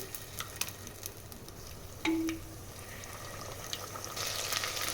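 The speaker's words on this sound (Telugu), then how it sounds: "ఆయిల్ హీట్ అయిన తర్వాత బండ పువ్వు వేసుకోవాలి బండ పువ్వు కొద్దిగా ఫ్రై అయిన తర్వాత మిక్సీ పట్టుకున్న ఆనియన్ పేస్ట్ని వేసేసుకోవాలి" Onion paste fries in hot oil with star anise, a soft steady sizzle with occasional spoon clinks and a short sharp hiss midway, growing slightly louder toward the end, no voices.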